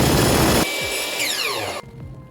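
Power saw cutting wood pieces for a bathroom shelf: a loud, harsh, continuous buzz that drops in level partway through and cuts off near the end, leaving a quieter hum.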